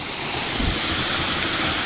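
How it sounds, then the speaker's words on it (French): The Cascade des Quaires waterfall roars from about five meters away, a steady, loud, broadband rush of falling water that continues without a break. "Là, je suis à 5 mètres de la chute de la cascade"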